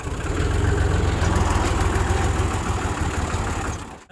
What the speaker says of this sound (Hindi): मैंने आके ट्रैक्टर स्टार्ट कर दिया